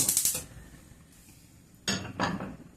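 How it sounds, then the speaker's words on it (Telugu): A metal kadai set down on a home kitchen stove while making almond milk mix powder, giving a bright clattering clank, then a quiet pause before two more metallic knocks and scrapes, close and fairly loud, with no talking. "మనకి సైజుని బట్టి కడాయి పెట్టుకోండి, ఎక్కువ తక్కువ ఏమొద్దు."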